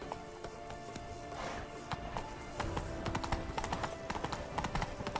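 A horse gallops in The Witcher 3, its hooves beating a quick, rhythmic clip-clop that grows louder and denser toward the end, close up with faint game ambience behind.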